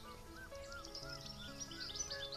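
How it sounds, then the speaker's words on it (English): Small birds chirp and tweet continuously in a busy, overlapping chorus of short high calls, fairly faint and steady throughout, with no voices. "Birds also give alarm calls to warn about the danger."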